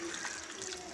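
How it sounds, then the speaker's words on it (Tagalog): Water poured into a cooking pot holding saba bananas for boiling, a short soft splashing trickle close by. "Lalagyan natin ng tubig."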